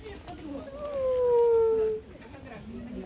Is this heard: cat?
yes